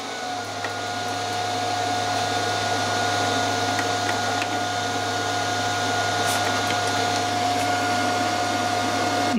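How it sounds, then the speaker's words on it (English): A CD player's motor whirs steadily while it fails to eject, making a continuous mechanical hum with a faint whine that stays even and unbroken throughout. "the motor's going"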